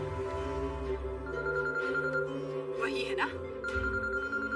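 A phone rings during a Hindi film scene, with two stretches of repeating electronic ring tones sounding beneath dialogue and background music.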